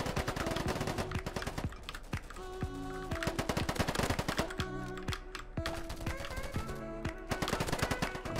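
Rapid automatic AK-47 fire in the shooter game Polygon, loud and continuous with dense bursts of shots and brief pauses between volleys, alone without talk.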